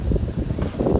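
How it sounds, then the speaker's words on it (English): Strong wind buffets the microphone at a marina, a low continuous rumbling roar with gusty surges and no talk. "it's really windy and it's blowing my gas off when I'm trying to weld"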